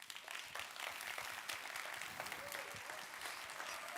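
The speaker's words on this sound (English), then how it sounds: "Give him a big round of applause, please." Audience applause fills a hall at a TEDx talk, a sustained wash of many hands clapping at moderate distance, steady throughout the stretch.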